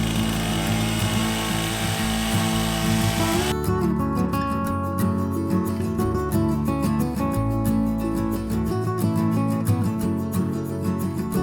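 A chainsaw carving wood roars continuously, its engine pitch shifting as it bites in, with rapid rhythmic rattling through the long steady run.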